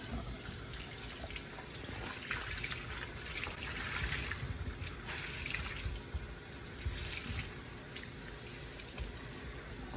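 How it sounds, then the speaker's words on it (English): Tap water running steadily into a sink while tie-dyed fabric is rinsed, a continuous close splashing hiss with slight surges, no talk. "So I'm going to rinse it a little bit longer."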